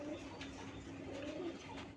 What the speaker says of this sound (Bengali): বন্ধুরা এখানে আরেক জোড়া রাজগোল্লা কবুতর আছে